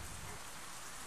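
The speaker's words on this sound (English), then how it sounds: "Oh, it's beginning to rain." Rain falling in the survival game Out Of Reach, a soft continuous patter with a faint low rumble early on, quiet and even, no voices.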